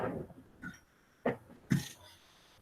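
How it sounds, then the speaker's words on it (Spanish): Short, sharp coughs from a person during a lecture on legal procedure, one faint at first, then two louder bursts about half a second apart, close to the microphone over a quiet room. "Una disculpa anticipada por todas las veces que llegué a toser."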